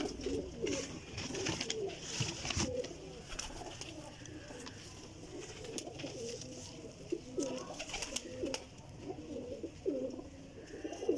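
Teddy Golden racing pigeons at a Jhelum loft coo in soft, repeated throaty rolls, several birds overlapping in a steady murmur, with faint background voices.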